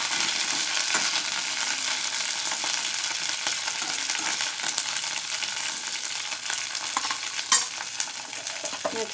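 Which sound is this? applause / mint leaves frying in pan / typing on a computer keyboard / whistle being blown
mint leaves frying in pan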